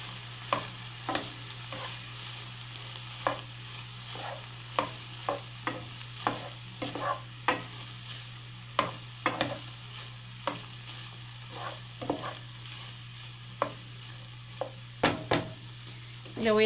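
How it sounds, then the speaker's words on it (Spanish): A spoon stirs arrachera stew seasoned with cumin in a pan, making repeated close scrapes and clinks at an uneven rhythm over a steady low hum, with no one talking. "Le voy a revolver."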